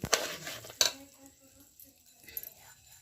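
Tempering being added to a pot of roasted semolina and melted ghee for Konkan bhanore, with two sharp metallic clinks of a utensil against the pot followed by quieter scraping and stirring, close by.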